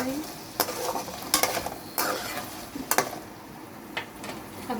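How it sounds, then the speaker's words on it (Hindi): Potatoes fry in a pan, a soft sizzle running underneath as a spoon stirs and scrapes with several sharp clinks against the metal, fairly close and moderately quiet. "आलू फ्राई करने रखे थे"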